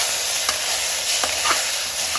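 Ginger-garlic paste hitting a frying mutton curry masala in a pan, giving a steady loud sizzle with a few brief stirring scrapes and taps, with no talking.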